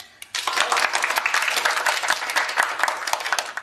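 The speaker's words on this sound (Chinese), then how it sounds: "那么在这里，我希望大家给他最热烈的掌声。" Audience applause at a company workplace gathering breaks out suddenly after a short quiet start, then continues as steady, dense, close clapping from a room full of people.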